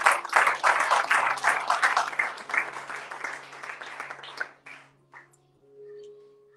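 A church congregation applauds and cheers together in a loud, sustained burst of clapping that fades out after about four and a half seconds, followed by brief quiet and a faint tone.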